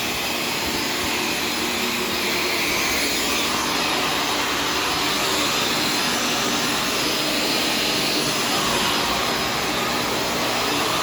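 A Shark self-cleaning vacuum cleaner runs across a kitchen floor, giving a loud, steady broadband whine with a constant motor hum and no breaks.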